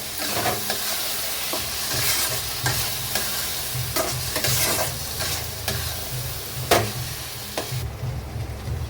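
White mustard paste ground with green chilli frying with small fish in a pan, a steady loud sizzle broken by repeated scraping stirs and clinks of a spatula, easing off near the end.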